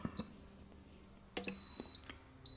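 An Instant Pot electric pressure cooker holding two cups of water gives high electronic beeps as it is switched on: a short chirp, then a sustained tone, then another tone starting, against a quiet kitchen background.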